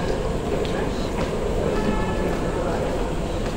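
Metro train in Chennai rolls past with a loud, dense rumble and faint clacking that stays constant for the whole moment, with voices mixed in.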